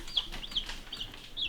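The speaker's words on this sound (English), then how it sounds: "We picked up our chickens." Meat chickens on a homestead make soft, repeated high peeping clucks, several short calls in quick succession, fairly faint and close, with no talking.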